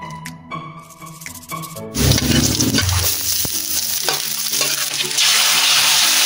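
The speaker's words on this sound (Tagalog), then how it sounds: "ginisa ko lang yung sardinas sa bawang at sibuyas" Sardines sautéing in garlic and onion, with a little dried fish added, sizzle in a pan. A quieter scraping start gives way to a loud, steady fry that builds toward the end, with no talk over it.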